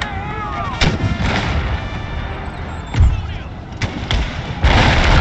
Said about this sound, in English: Quickly and start shooting.